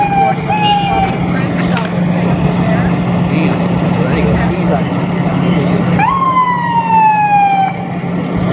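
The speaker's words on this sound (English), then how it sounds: "They already bring the ambulance" An ambulance siren wails at a street scene during a protest where someone may have been shot, its rising and falling sweeps cutting through steady crowd and traffic noise while people talk nearby.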